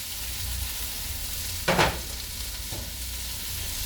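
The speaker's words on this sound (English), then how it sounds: "We want to make the tomatoes kind of wilt. And you want to brown up or kind of caramelize your shallots." Tomatoes and shallots fry in a skillet with a soft, steady sizzle. A short burst of stirring scrapes through partway and is followed by a fainter second scrape, with no voices.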